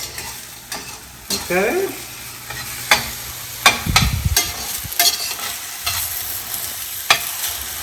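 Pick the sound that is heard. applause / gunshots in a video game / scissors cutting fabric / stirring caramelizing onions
stirring caramelizing onions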